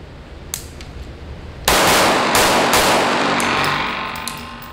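Gunfire from an H&K MP7 fitted with a compensator: a few faint early shots, then a loud, sharp, rapid burst of fire at close range that rings out and slowly decays.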